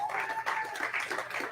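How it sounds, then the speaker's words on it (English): Brief applause from a studio audience on a morning show honoring an undefeated high school hockey team, steady clapping under faint tonal background sound. "Well, we should clap for that."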